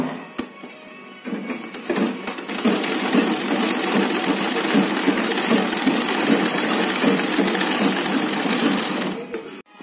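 A sewing machine stitching a floral fabric mask runs steadily at close range, producing a continuous fast needle clatter and motor whir for most of the span before stopping near the end.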